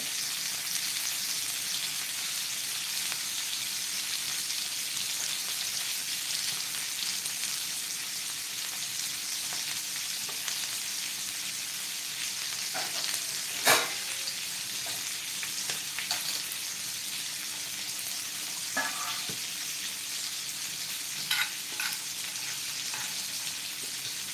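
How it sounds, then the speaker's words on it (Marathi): Masala-coated bangda mackerel frying in a pan over low heat, a steady close crackling sizzle with occasional sharper pops and spatters scattered throughout. "आता आपण दुसरी बांगड्याची बाजू फ्राय करून घेऊया"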